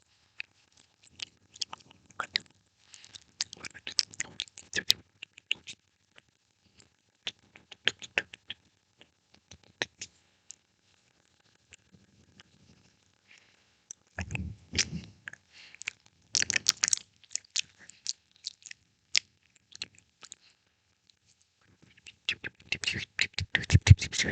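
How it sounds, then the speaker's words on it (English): Close, wet and dry ASMR mouth noises: soft clicks, smacks and chewing-like taps come in uneven bursts with quiet gaps between them, and no clear speech is heard. "We like to do like dry mouth sounds"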